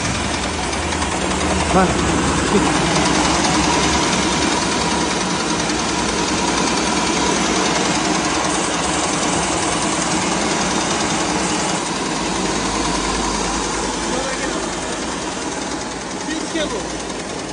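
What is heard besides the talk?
motorised rice hulling machine running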